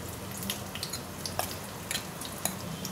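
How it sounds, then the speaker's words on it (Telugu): Sago khichdi being stirred and mixed in a pan, with soft scraping and light clinks of a spoon against the pan over a low, quiet sizzle, at close range. "ఇలా రెండింటిని మిక్స్ చేసేసి ఇలా కలిపేసుకోవాలండి మొత్తము"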